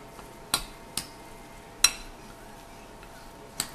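A spoon stirs meatball mixture with sauce in a bowl, giving soft wet squelching broken by a few sharp clinks against the bowl, close and quiet.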